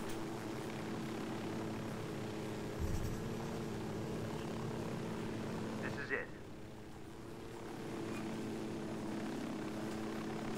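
Helicopter landing in the video game Ghost Recon Wildlands, a steady rotor and engine drone holding throughout with a brief thump near the start and a dip as it settles, game speech faintly underneath.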